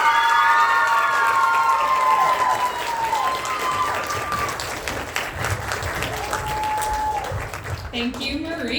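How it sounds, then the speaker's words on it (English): An audience claps and cheers warmly at a live 2024 HYT cabaret show. Sustained applause mixes with whoops and shouting voices, then slowly thins toward the end. "One more round of applause for Marika."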